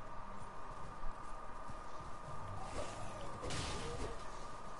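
Horse hooves clip-clop at a steady gallop across open ground in the video game Elden Ring, a continuous rhythmic thudding with a whoosh partway through.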